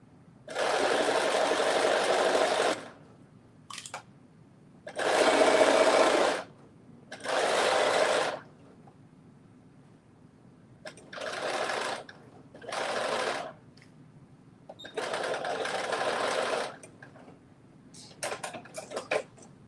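Sewing machine stitching a long hem on a top, running in several separate bursts of steady whirring of a few seconds each, separated by short pauses and small handling clicks, close and alone.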